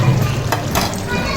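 A pot of Karimilagai milk curry with chillies bubbles and sizzles hard at close range, a loud, continuous simmer.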